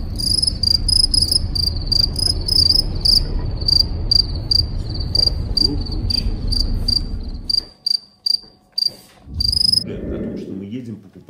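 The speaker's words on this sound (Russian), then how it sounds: "Потому что я единственное, кого могу слушать, это Сверчков." Common black crickets chirp in rapid, regular high-pitched trills, loud and close, over a low rumbling background that later fades. The chirping pauses briefly near the end before one last burst.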